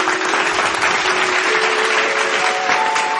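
Audience applause at a devotional stage programme welcoming a singer, continuous dense clapping at a loud, even level, with a faint steady tone running underneath.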